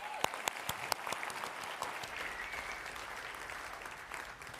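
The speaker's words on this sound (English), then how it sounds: "Give Pam a round of applause" Audience applause for Pam at a Jordan Belfort seminar, a dense steady clapping from a sizeable crowd with a few sharp individual claps standing out, moderately distant and fading slightly at the end.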